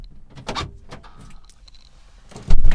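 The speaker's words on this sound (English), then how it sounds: "Close the door." Faulty aftermarket door lock actuator in a 2008 Kia Spectra, a close series of clunks and a brief whirring buzz, ending in a loud heavy thump as the car door shuts.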